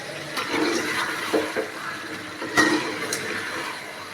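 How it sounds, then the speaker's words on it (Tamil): A glass of water poured into simmering chicken gravy in a cooking pot gives a steady, close splashing rush that runs for several seconds with slight surges, and no one talks. "கிளாஸ் வந்து தண்ணி போட்டிருக்கேன்"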